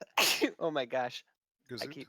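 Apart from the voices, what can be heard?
sneeze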